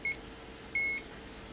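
Two short electronic beeps from a radio-controlled car's electronics on a 3S battery, the first brief and the second longer binding beep, clear and close against a faint background hum.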